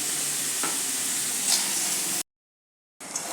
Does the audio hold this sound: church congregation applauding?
no